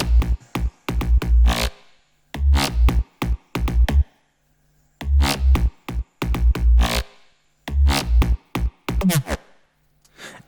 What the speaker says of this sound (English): without the frequency splitter, the bass track will sound like this